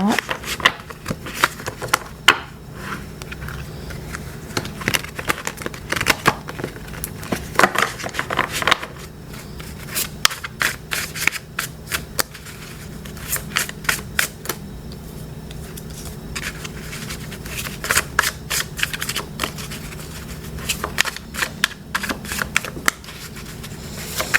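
Tarot cards are shuffled in repeated bursts of quick crisp riffling and slapping, with scattered sharp snaps between rounds and a voice talking at points underneath.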